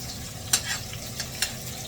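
Salmon stir-fries with large onion pieces, giving a steady close sizzle with two sharp metallic clinks of the stirring utensil and no voice.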